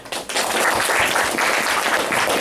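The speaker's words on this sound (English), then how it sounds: "so you're giving me some applause" A lecture audience applauds to welcome a speaker, dense sustained clapping across the whole short burst, loud and close with no voices over it.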